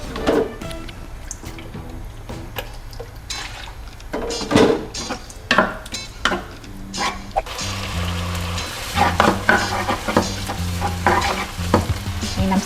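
Pork with soy sauce sizzles and is stirred in a hot pan, spatula scrapes and clanks repeating through the clip, frying growing denser and louder in the second half.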